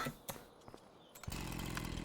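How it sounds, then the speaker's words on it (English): A chainsaw in the Farming Simulator 25 video game starts up after a few knocks and clatters, then runs at a steady, buzzing idle, fairly faint and heard alone. "Chainsaw."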